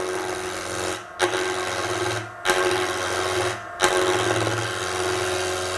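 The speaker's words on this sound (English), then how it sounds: "And again, a chisel cut here." A chisel cuts wood spinning on a Coronet Herald woodturning lathe, making a loud, steady, close rasping drone that breaks off three times in short gaps before resuming.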